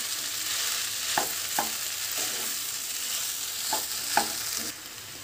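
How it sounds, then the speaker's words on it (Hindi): Chopped amla fries in melted ghee over high flame, a steady bright sizzle broken by several soft spoon-stirring clicks and scrapes, close and alone without voices. "अब हम इसे चॉप किया हुआ आंवला इसी के अंदर डालेंगे। इसे अच्छी तरह से भून लेंगे।"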